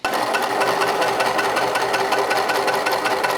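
A sewing machine stitches a fabric bag handle near the edge: a steady, loud, close mechanical whir with a fast even needle rattle running throughout.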